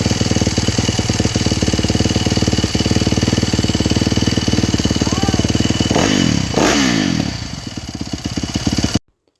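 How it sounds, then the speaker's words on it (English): A rebuilt 2020 Yamaha YZ450F motorcycle engine running loud and close, a steady rapid thumping idle with a couple of rising revs near the end before it cuts off abruptly. "he's extremely happy to have his bike back up and running"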